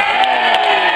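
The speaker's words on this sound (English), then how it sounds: "Give them all a cheer!" A crowd cheers and whoops for the knights at a Grand Mêlée tournament at Kenilworth Castle, a loud, sustained roar of voices throughout the short moment.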